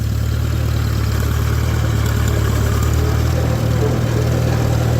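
A high-clearance 1949 Farmall Super AV tractor drives up a driveway in second gear, its engine giving a loud, steady, low chugging drone that runs unbroken from start to finish, with no voices.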